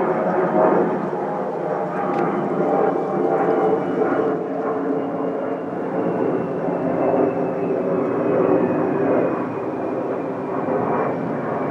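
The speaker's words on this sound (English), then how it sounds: "just taken off from Manchester, Jet 2." A Jet2 Airbus A321 just after takeoff from Manchester, heard from a back garden as a steady, loud roaring jet engine drone that holds throughout, broad and rumbling with a faint high whine.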